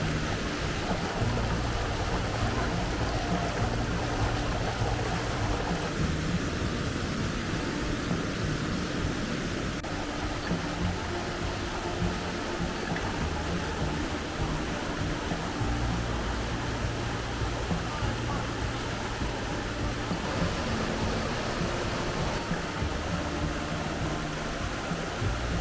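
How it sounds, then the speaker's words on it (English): Steady rushing roar of Triple Decker Falls in Wells Gray Provincial Park, Clearwater, BC, a broad continuous water noise heard close and loud without pause, with no voices over it. "Triple Decker Falls!"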